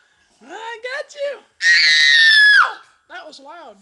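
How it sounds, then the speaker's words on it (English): A child lets out one long, loud, piercing scream lasting about a second, close up, between short stretches of speech before and after. "What are you screaming for?"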